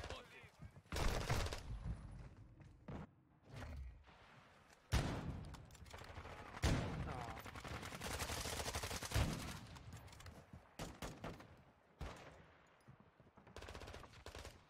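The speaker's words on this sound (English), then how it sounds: "Whoever sniped that guy in the window saved me." Rapid gunfire from a video game with sniping and rushing crackles in dense, uneven bursts, loud sharp shots mixed with clattering impacts and busy battle noise throughout.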